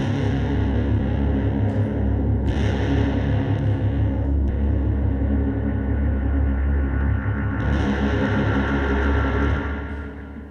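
Bass guitar tuned to drop D played through a reverb pedal, dense sustained distorted low notes with a washy, shimmering tail, loud and continuous, fading slightly at the end.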